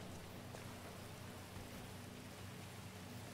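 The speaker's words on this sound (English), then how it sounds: "It's raining." Steady rain in GTA 5 hisses evenly throughout, a soft continuous wash of falling water with no voices.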